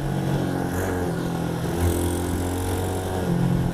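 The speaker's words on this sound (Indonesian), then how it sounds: "Kita coba spot top speed dari diesel matic ini." A diesel automatic ATV engine runs flat out at top speed, a steady, loud droning hum with a wavering pitch heard from on board, with no talk.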